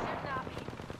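Rapid automatic gunfire in Apex Legends, a fast burst of shots rattling close by with a voice talking over it.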